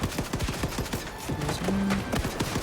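Pistol fire in Wolfenstein II: The New Colossus, a quick run of snappy, closely spaced shots amid busy game noise and a continuous mechanical hum.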